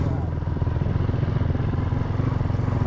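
Second-hand Yamaha MT-15 motorcycle engine running, a steady close, loud, low throbbing idle rumble with no talk over it.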